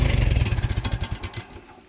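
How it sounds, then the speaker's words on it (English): An antique tractor engine chugging in rapid regular pulses, loud and close, then slowing and fading as it is shut off, with no talk. "I'm going to shut the tractor off."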